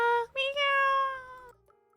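A cat gives a drawn-out, tonal meow that breaks briefly near the start, then holds steady for over a second before stopping abruptly, leaving near silence.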